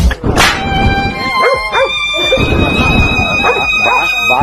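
Two dogs bark and yip at a horse, loud and close, with sharp repeated barks and whining yelps in quick succession.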